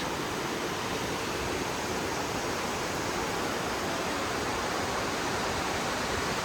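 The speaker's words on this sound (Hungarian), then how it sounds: "Kis csobogás hang is található itt." Water babbles through a gorge in Slovenia, a steady, even rush of flowing stream that holds unchanged throughout, moderately loud with no voices.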